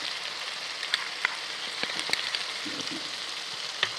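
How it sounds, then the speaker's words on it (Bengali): Garlic paste sizzling in hot oil with onions for a chitol fish kaliya, a steady crackling hiss with a few sharp pops and light spatula taps, close and moderately loud, no talking. "তেলটা থাকতে শুরু করেছে, তার মধ্যে আমি দিয়ে দেবো এর মধ্যে রসুন বাটা, এক চামচ রসুন বাটা।"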